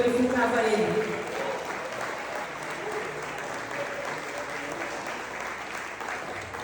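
A congregation claps at a church service, steady moderate applause with a brief voice at the start that fades as the clapping continues evenly.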